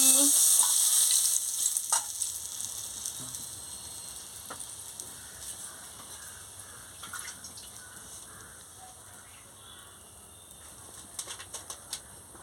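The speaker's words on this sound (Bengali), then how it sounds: "আলুগুলোকে একটু ভেজে নিচ্ছি।" Potatoes sizzle and crackle in a hot pan after fish head was fried, a brief loud hiss at first settling into a quieter steady fry with occasional pops.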